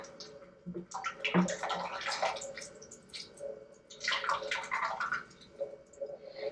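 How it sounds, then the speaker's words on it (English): Water pours into a fermenter for a hard seltzer brew in two splashy, gurgling bursts separated by a brief lull, close by with no talking. "So I'm going to pour this right into the fermenter."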